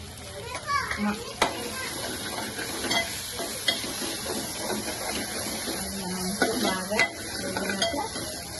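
Ground masala fries and is stirred in a pan for a silavathi fish curry, giving irregular scraping strokes over a steady sizzle, while children's voices carry in the background.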